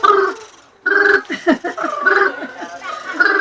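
A person vocally imitates a great tree frog's call with short, explosive, honking bursts repeated several times, close and loud, with brief pauses between.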